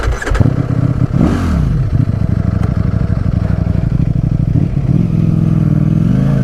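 A 2020 Ducati Streetfighter V4 S pulls away on gravel, its engine loud and close with rising and falling revs and a rough, pulsing note, while stones crunch and clatter beneath.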